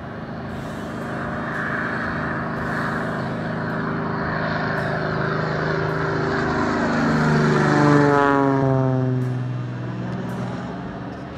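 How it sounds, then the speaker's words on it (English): Small propeller planes fly in at the Indian Creek backcountry airstrip on the Middle Fork of the Salmon, Idaho: a steady engine drone that swells and Doppler-shifts downward as one passes close, then fades. "Busy day at the Indian Creek airstrip. Planes flying in all morning, dropping off rafters."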